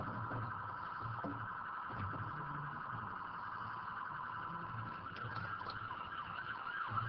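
An emergency vehicle siren wailing outside during a council meeting, a faint, steady tone that persists throughout the room noise without any talking.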